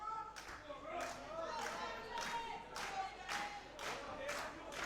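Rhythmic crowd clapping at an Atomic Wrestling show, evenly spaced bursts from many hands repeating in a steady chant-like beat, moderately distant and filling the arena.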